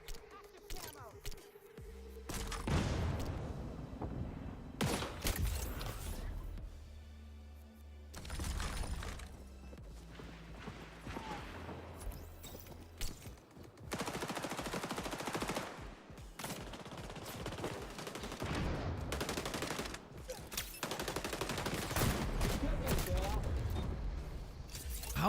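Repeated bursts of automatic gunfire in the online shooter XDefiant, loud and close in several separate volleys with short gaps, with a player talking between and over the shots.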